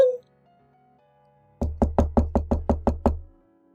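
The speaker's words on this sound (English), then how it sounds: "I heard the entrance doorbell ring, and the sound of knocking." Eight quick, evenly spaced knocks land sharply on an entrance door, close and loud, following a brief faint chime and a moment of near silence.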